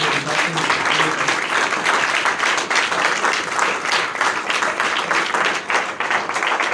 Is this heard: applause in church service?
yes